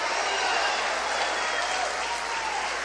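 A church congregation at a worship conference keeps up sustained, even applause, a thick continuous patter of many hands clapping at close range, with a light murmur of voices underneath.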